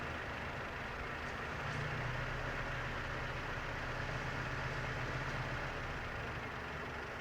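A 2004 Toyota Tacoma engine idles with an idle control problem, a steady low rumble heard up close and quiet, with a faint hum rising slightly in the middle.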